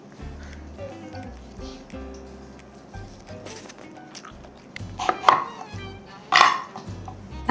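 Lemons roughly chopped with a knife for a juicer, a series of blunt cuts and soft squishy thuds against a board, with dish clatter and a couple of louder wet knocks toward the end; no talking.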